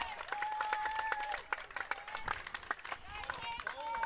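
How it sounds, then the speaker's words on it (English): Scattered clapping and cheers ring out across a lawn bowls green at an Australian Under 18 girls' singles championship final, sharp individual claps mixed with voices talking and calling nearby. "Plenty of cheering happening across the green."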